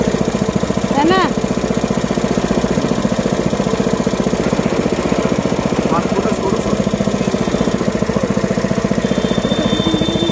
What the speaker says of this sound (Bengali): আখের রসের নতুন মেশিন